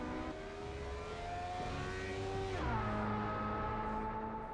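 A Porsche hypercar engine in the racing game Project CARS 3 holds a steady, loud drone, then shifts pitch abruptly partway through as it changes gear and keeps pulling with no voices.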